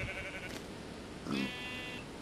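A sheep in the video game Minecraft bleats twice, with a short pause between the calls, quiet against a soft background.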